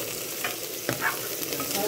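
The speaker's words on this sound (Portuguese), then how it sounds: "Acabou de fritar o bacon," Bacon and onion fry in a pan, a continuous close sizzle with a few brief stirring scrapes mixed in, no talk.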